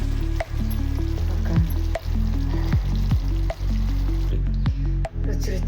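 Eggplant pieces for a North Karnataka-style badanekayi ennegayi curry fry steadily in oil, giving a loud continuous sizzle with occasional stirring scrapes and soft squishes, close up and without talk.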